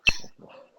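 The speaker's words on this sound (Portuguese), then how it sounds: "Só os cachorros se manifestaram, né, velho?" A dog gives one short, sharp bark or yelp, followed by soft whimpering and breathing. The sound is faint and brief, with no talking.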